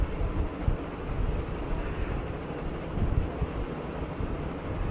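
Strong wind roars steadily against the microphone outdoors while a kite is flown on sharp manjha string, a constant loud rumble with no voices.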